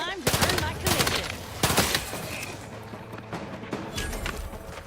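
A gun fires in The Outer Worlds 2, several sharp separate shots in the first two seconds, then quieter scattered game noise with faint voices underneath.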